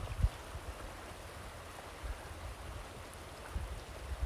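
River water rushes steadily at a backcountry river crossing on the South Boundary Trail in Yellowstone National Park, a continuous low, murmuring flow with occasional heavier surges and no voices.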